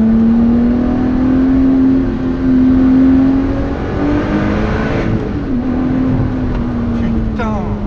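An Alfa Romeo 4C or a Lotus Exige S V6 accelerating on the road, a loud sustained engine drone heard from inside the car with a gear change partway, while someone talks over it.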